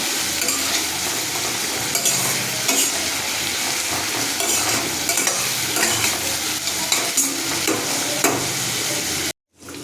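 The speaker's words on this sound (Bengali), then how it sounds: "চলো এটা তখন ভাজা হোক।" In a pan of bay leaves and a little sugar for a chicken dish, food fries and is stirred, producing a loud continuous sizzle with scraping spoon strokes close up. The sound cuts out abruptly near the end.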